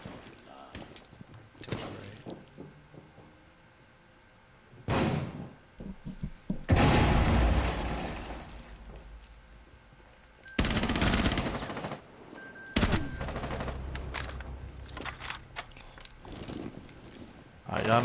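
Gunfire in the game Rainbow Six Siege comes as several loud automatic bursts and single shots, some near and harsh, others muffled, scattered across a tense round with players talking throughout.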